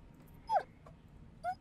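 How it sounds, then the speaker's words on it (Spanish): A puppy in a horror video game gives two short, high whimpers about a second apart, faint and isolated against a quiet background. "¡Ey! ¡Tengo un perrito!"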